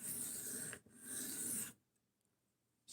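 A knife drawn across a sharpening stone in two close, gritty rasping strokes, each under a second, followed by near silence.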